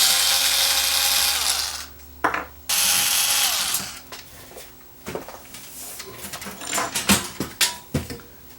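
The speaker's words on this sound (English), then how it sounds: "So let's remove the bottom. I have to remove all the screws here." A Mitsubishi HS-U55 VCR has the screws on its bottom taken out with a power screwdriver. Two long, loud whirring bursts come first, then scattered clicks and rattles of screws and metal close by, with no talk.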